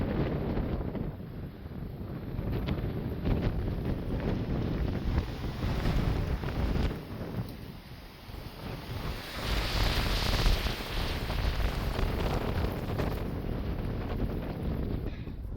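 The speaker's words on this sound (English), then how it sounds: "power of this wind coming over this mountain right now is insane" Strong, ice-cold January wind blows over a mountain in Arizona's White Tank Mountains, roaring and buffeting the microphone in loud continuous gusts that swell and ease without pause.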